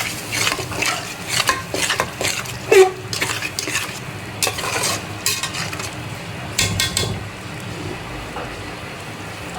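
Spices stir-fried in a pan for Bihari-style meat, with a spatula repeatedly scraping and clanking against the metal under a steady, soft sizzle, close and continuous with no talk.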